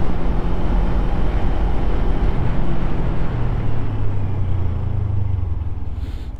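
A Suzuki GSX250R 250cc motorcycle rides at high rpm, giving a loud, continuous engine drone under heavy wind and road rumble that eases slightly in pitch toward the end.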